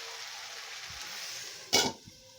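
Dried fish and prawns frying in a pan, with a steady close sizzle and a brief loud scrape of stirring near the end, no voices.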